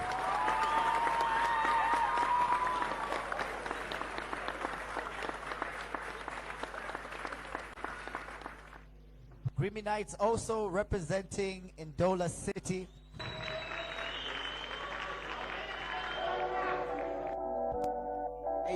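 A crowd gives loud, sustained applause and cheers for the Grimy Knights performers at a Lusaka show. The clapping fills the first half, then fades as someone speaks over music.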